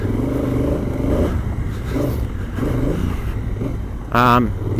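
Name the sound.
Honda Africa Twin DCT motorcycle riding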